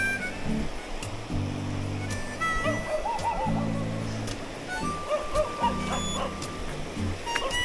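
A dog barks in short repeated bursts with a few whiny yips, fairly close, over a steady background wash like surf, near a river crossing in Laiban, Tanay, Rizal, Philippines.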